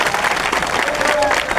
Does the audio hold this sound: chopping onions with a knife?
no